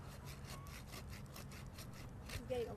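A handsaw cuts through a tree limb in quick, even back-and-forth strokes, a rhythmic rasping of wood heard close up with no talking.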